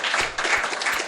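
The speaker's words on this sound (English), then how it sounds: "I'm clapping for everybody." Quick hand claps from one person during a music reaction, a short run of distinct, fairly close claps at an uneven rhythm with no talk over them.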